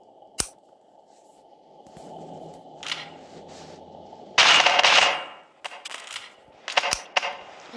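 A pulse gun fires in the Melon Playground video game, with a few sharp, loud shots and one dense burst of blasts, spaced irregularly.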